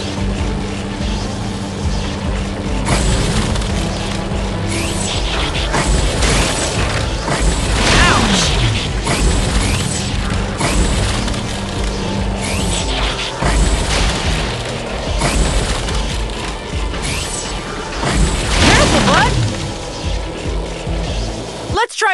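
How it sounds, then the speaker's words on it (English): Robotic Morbot enemy in a Transformers Rescue Bots running video game charging its cannons and attacking: loud, continuous mechanical whirring and rumbling with repeated booming blasts and sweeping charge-up tones, game action throughout, under occasional voice lines. "When the Morbot is charging its cannons, it means it'll attack soon!"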